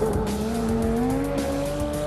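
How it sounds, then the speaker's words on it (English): A Lamborghini Gallardo SE with a ten-cylinder V10 engine screams at full throttle, a loud sustained howl whose pitch climbs steadily and close up, with no talking. "At full pelt, the 10 cylinders ravish fuel at a rate of 9 miles per every gallon, with leftovers burning at the exhaust."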